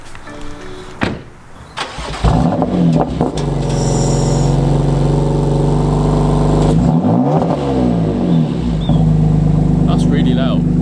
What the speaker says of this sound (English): Sport Plus startup. Sport Plus start.